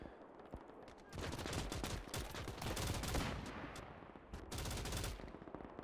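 German machine gun firing from a trench during a Battle of Berlin fight in Gates of Hell, rapid crackling bursts that run on for seconds, with a brief pause before another long string of shots.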